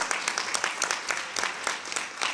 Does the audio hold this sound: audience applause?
yes